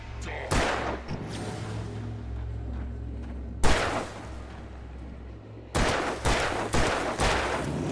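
Gunshots from the video game Alan Wake Remastered, several sharp, loud, booming reports spaced irregularly, including a quick cluster of three or four near the end, over a low droning background hum.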